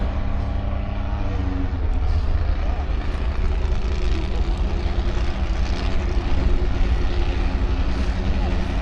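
A Mazda and a Pontiac drag racing at Santa Pod Raceway make a continuous loud, steady engine roar with rumbling low end, and a faint voice sits beneath the noise.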